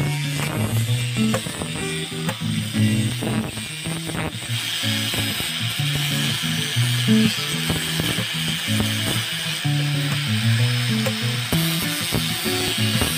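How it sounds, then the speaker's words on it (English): An electric sander works over rotten bamboo being cleaned for a hanging flower pot, giving a steady, loud buzzing grind with rhythmic rattling and scraping pulses throughout, no talking. "this time we're going to use the sander to clean the rotten bamboo"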